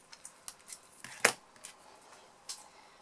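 A few quick snips of scissors cutting through thin washi tape, with one louder crisp snip in the middle among softer clicks in a quiet room.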